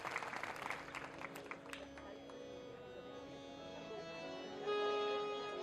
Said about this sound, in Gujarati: બહેનોને જોરદાર તાળીથી વધાવું છું